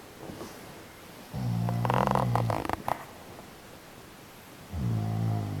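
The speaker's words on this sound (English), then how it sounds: "You're snoring." A man snoring in bed at night, two long, deep rasping snores separated by a pause, loud and close, with rustling in the middle of the first one.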